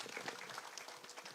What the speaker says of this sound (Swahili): Pigeni hao wote makofi.